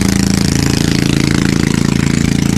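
Loud motorcycle engine climbing an uphill stretch of Cabrera Road toward Taktak hilltop, a steady close rumbling drone with a rapid pulsing beat that holds constant throughout, with no voices.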